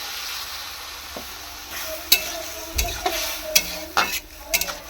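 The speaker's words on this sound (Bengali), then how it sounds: "তো আমরা এবার হালকা জল দিয়ে দেবো যাতে সবজিগুলো গলে যায়" Potato and soybean curry vegetables stirred and sizzling in a pan as a little water goes in, with scattered clinks of a spoon and bursts of frying hiss, close and moderately loud, no talking.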